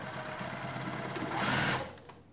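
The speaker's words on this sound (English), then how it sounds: "we're going to go ahead and sew this again at a fourth of an inch seam allowance" Sewing machine stitching a quarter-inch seam allowance on a garment, a short, fast, rhythmic mechanical whirr close up that speeds up then stops, with no talk.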